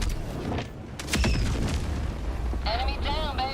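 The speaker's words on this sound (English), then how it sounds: "Calling in orbital strike. That is very close." Orbital strike explosion in the shooter game Helldivers 2: heavy booming blasts rise after a brief lull and rumble on loudly, with sharp gunfire-like cracks and electronic tonal chirps layered on top near the close.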